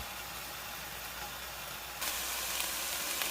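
Broccoli cooks in a covered pan on low heat with a soft, even steam hiss that grows a little brighter and louder partway through, alone without talk.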